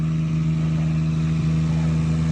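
A car with an RB26 engine hums in a loud, steady drone at a constant pitch, close by, with no clear rise or fall in revs.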